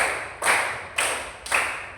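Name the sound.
class clapping hands in rhythm game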